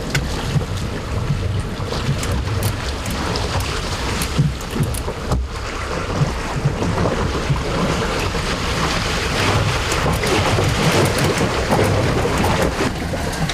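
Heavy rain pours down on a street turned into a lake, a dense, loud, unbroken roar of water and wind with splashing, lasting throughout with no voices.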